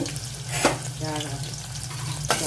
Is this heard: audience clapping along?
no